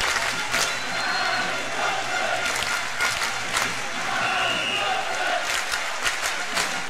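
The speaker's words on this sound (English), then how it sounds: "hockey fans of all teams come together here to stand and applaud" Crowd of hockey fans in an arena stands and applauds in tribute, a steady wash of clapping and murmur with scattered louder claps, while a commentator's voice runs faintly underneath.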